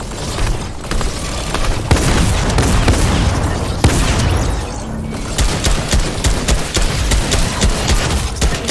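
A minigun fires in the Fortnite video game. Loud, continuous rapid bursts of gunfire run through the whole clip with only brief breaks, and no one speaks.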